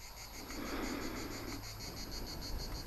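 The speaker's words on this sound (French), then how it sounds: "Je viens de remarquer qu'on entend les cigales maintenant." Cicadas buzz in a steady, continuous drone on a sunny roadside during a summer motorcycle trip, holding at an even level throughout with no voices.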